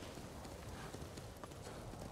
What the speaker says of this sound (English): Might as well ride a different horse,